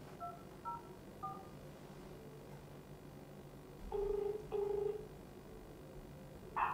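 Faint telephone call being placed: a few short keypad dial tones at the start, then two longer ringback tones in the middle, followed by a brief tone at the end, all quiet and with no talk.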